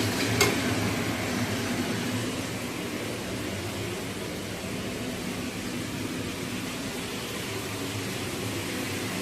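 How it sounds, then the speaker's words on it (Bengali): A masala of ginger paste, tomato paste, cumin and whole garam masala fries in a pan, giving a steady, even sizzle that holds at the same level throughout with no voices. "মশলাটা কষে নিচ্ছি এটা কিন্তু মশলাটার মধ্যে তেমন কিছু দেওয়া নেই এখানে আদা বাটা আর টমেটো বাটা জিরে"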